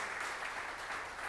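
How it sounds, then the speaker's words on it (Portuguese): A church congregation claps together in praise during a worship service, a steady, fairly quiet wash of applause lasting a moment with no voices over it. "Vamos aplaudir o Senhor."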